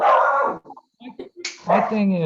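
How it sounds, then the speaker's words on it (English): A dog barks a few short times in the background during a zoning commission meeting, between stretches of nearby conversation, its yaps sharp and moderately loud. "That was my dog. He heard you."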